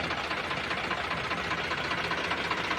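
A Sonalika DI 60 RX tractor engine runs steadily, a close, loud, continuous diesel rumble with a rapid knocking texture and no pauses or speech.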